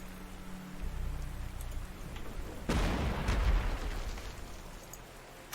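Rain falls in the Panzer Corps 1940 war strategy game as a steady broadband hiss, with a louder rumbling burst like distant artillery partway through before settling back to the patter.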